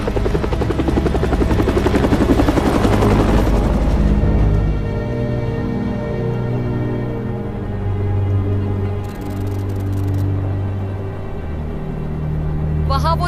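Helicopter rotor thumping loud and close, fading somewhat partway through and then holding a steady drone, with speech heard over it.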